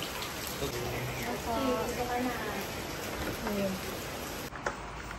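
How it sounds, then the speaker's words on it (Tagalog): Heavy rain pours steadily in Baguio as a dense, constant hiss, with faint voices and tonal sounds in the background. "Sobrang lakas ng ulan"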